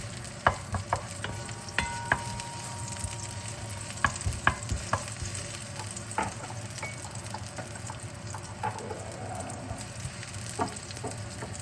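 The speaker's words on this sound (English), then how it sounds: "you can hear the oil sizzling away now" Oil sizzling steadily in a pan while fish tom yum soup ingredients fry, a constant close crackling hiss punctuated by frequent light clicks and taps of stirring.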